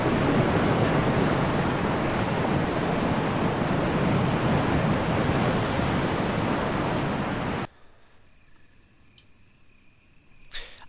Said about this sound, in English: I can hear the sound of a waterfall in the distance.